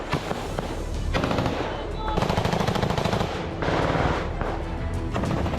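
Gunfire during a Ukrainian attack on a Russian troop post near a village, loud sustained bursts of rapid automatic fire, rattling on and off across the whole stretch, with short gaps between volleys.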